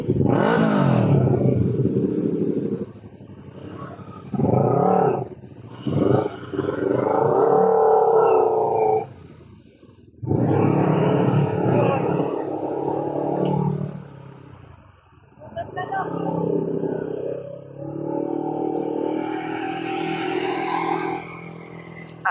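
A big bike motorcycle in traffic revs in repeated loud surges, each rising and falling in pitch close by, with brief quieter gaps between the bursts.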